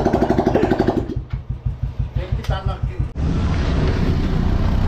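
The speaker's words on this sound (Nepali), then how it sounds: "मेरो बाइक चाहिँ यस्तो कराउने भएको छ।" A motorcycle engine with its silencer removed runs loud and raw, first a steady fast chugging, then a stretch of distinct individual exhaust pulses, before settling back into a dense, roaring idle up close.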